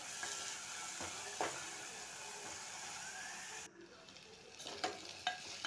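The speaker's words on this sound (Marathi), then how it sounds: "टोमॅटो टाकलं की अजून 2 मिनिट आपण छान असं हे परतून घेणार आहोत।" Onion and tomato sautéing in hot oil for chole, a steady close sizzle with occasional scrapes of a stirring spoon, then a brief drop in level before the frying continues with light clinks.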